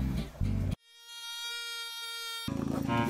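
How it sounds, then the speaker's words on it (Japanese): Mosquitoes whine near the microphone on a raft on the Amazon River at dawn, a thin, steady, high-pitched buzz heard alone for nearly two seconds between louder, rougher bursts of noise. "蚊だらけになってきた"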